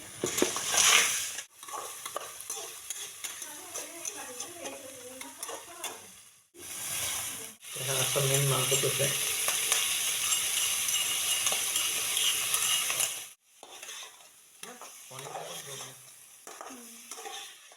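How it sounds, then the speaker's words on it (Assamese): Onion, garlic, ginger and turmeric fry in a pan with a soft sizzle, broken by repeated scraping and stirring strokes of a spatula that come in bursts separated by short pauses. "লগতে পিঁয়াজ, নহৰু, আদা আৰু লগতে হালধি দি পেলাই এইখিনি ৰঙা হোৱালৈকে ভাজি থাকিম"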